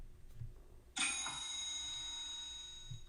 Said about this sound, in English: It makes that little ringing noise